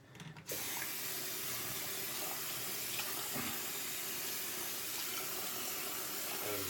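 Tap water runs steadily into a sink for rinsing after a head shave with a Leaf razor, a continuous close splashing stream that starts abruptly and holds at an even level with no talking.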